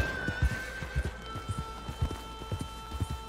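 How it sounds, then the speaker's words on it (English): Horse in Red Dead Redemption 2, with a whinny over a steady clip-clop of hooves beating in a quick, even rhythm, fairly close, over a faint tonal game backdrop. "You killed the horse!"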